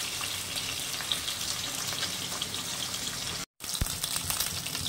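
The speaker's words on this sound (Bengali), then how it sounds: "ভালো করে ভেজে নেব লাল করে।" Barramundi fish bones frying in hot oil, a dense, steady sizzle close by, broken by a brief cut near the end and then resuming just as loud, with no voices.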